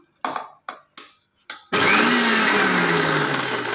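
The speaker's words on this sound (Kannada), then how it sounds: "ಸ್ವಲ್ಪ ನೀರು ಹಾಕಿ ಈಗ ಮಿಕ್ಸಿ ಮಾಡ್ತೀನಿ" A kitchen mixer grinder blends onion-tomato chutney with a little water, starting with several short bursts, then a long, loud continuous whir with a slowly dropping motor whine.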